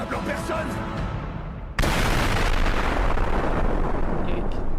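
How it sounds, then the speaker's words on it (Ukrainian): After some background commotion, a sudden massive blast erupts and rolls on as a loud, sustained rumbling roar. "постріл з гвинтівки набуває сили термоядерного удару"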